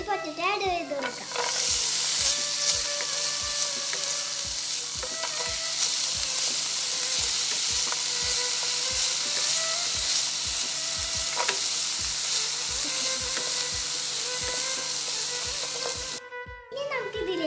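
Potatoes fry in a pan with browned onions, sizzling steadily while a utensil scrapes and stirs in a regular, brisk rhythm throughout.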